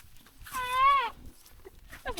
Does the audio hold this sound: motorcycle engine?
no